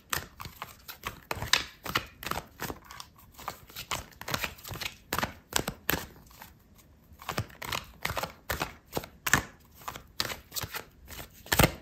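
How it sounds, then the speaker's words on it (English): Tarot cards being shuffled by hand in a quiet room, a steady run of papery riffles and soft slaps that pause briefly midway, close and fairly quiet with no talking. "I'm gonna pull out another card for you"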